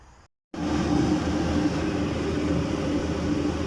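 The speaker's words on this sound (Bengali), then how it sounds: "এই যে আরও একটা মেট্রো আসে ঢুকলো এখানে" A Dubai Metro train pulls into the station. After a brief cut to silence, a loud, steady, broad rumble fills the rest of the clip without a break.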